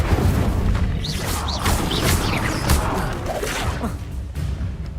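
A fire spell cast in Hogwarts Legacy erupts in a loud burst of whooshing flame and booming impacts, sustained and dense for several seconds amid chaotic combat effects.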